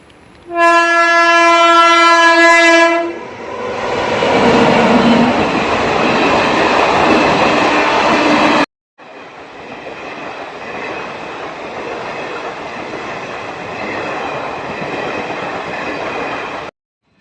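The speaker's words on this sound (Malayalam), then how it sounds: "ട്രെയിൻ പോണതൊക്കെ കൊള്ളാം" A train sounding a long horn blast and then rumbling past at a railway level crossing, loud and close, with a continuous roar of wheels and carriages that briefly cuts out and then continues, and no talk.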